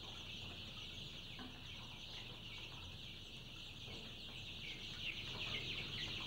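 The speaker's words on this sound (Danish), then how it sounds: "Små kyllinger, der kun var en halv snes dage gamle." Young chickens on a farm, about ten days old, cheep in a dense, continuous chorus of high peeping, faint and steady throughout with no talk.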